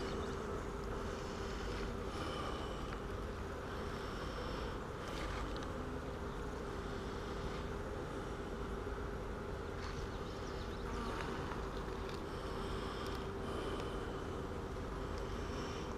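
Honeybees buzz steadily from an open hive during an inspection for the queen, a dense continuous hum that fills the clip without a break.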